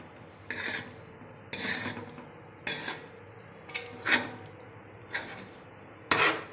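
Rice being mixed with fried fish in a metal pot, Arabic style: seven separate scraping clanks of a spoon against the pot at a slow, uneven pace, close and fairly quiet, with no voices.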